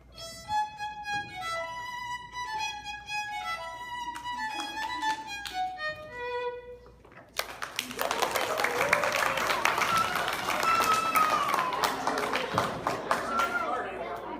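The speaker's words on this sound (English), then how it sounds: "So if you guys really liked it, clap really loud." Audience applause during a curtain call at a school arts performance bursts in suddenly after a bright melodic tune and continues as dense, loud clapping mixed with crowd noise and chatter.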